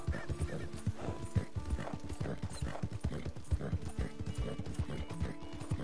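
Steady, rhythmic horse hoofbeats in Red Dead Redemption clip-clop at a brisk pace, close and fairly loud, with a faint musical hum underneath.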